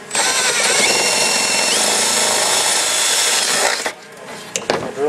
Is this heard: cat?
no